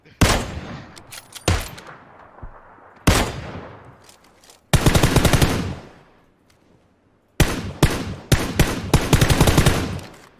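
Bursts of automatic gunfire in a PUBG firefight after a stun grenade, loud rapid volleys in several clusters with short silent gaps between, sharp cracks trailing off.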